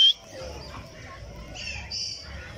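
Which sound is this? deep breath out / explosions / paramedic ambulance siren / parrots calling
parrots calling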